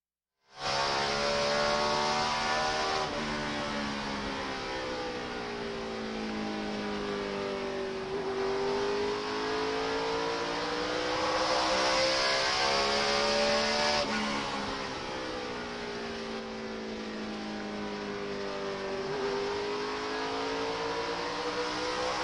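In-car sound from a NASCAR stock car racing at Richmond International Raceway in the Chevy Rock and Roll 400, a loud, steady engine roar rising and falling in pitch as the car goes through the gears and around the turns, with no break.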